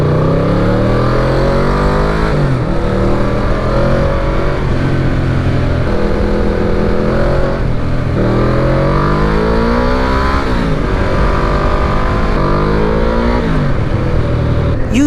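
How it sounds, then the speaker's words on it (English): A Yamaha VMAX motorcycle engine roars continuously while being ridden at high speed, loud and close, with rising and falling revs through gear changes across the whole stretch. "the bike sounds like it's just going at terminal speed. And this is a great sounding engine"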